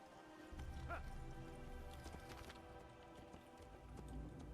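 Horse hooves clip-clop in a steady trot in Assassin's Creed on PS3, a rhythmic clatter under soft game ambience that carries on throughout.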